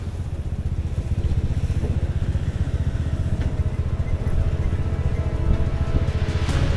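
A motorcycle rides down mountain roads from Ella toward Galle in Sri Lanka, its engine a steady close rumble with constant wind buffeting throughout, no speech.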